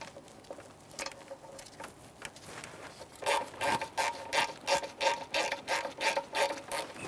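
A ratchet wrench clicks in quick rhythmic bursts as bolts are tightened on the rear valve cover of a 2007-2013 Acura MDX 3.7L V6, close and crisp, the pace picking up after a few scattered clicks.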